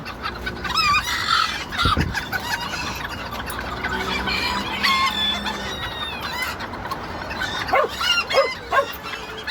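Bantam chickens clucking and squawking close by, with a rooster-like crow and scattered calls overlapping throughout, over a busy outdoor background.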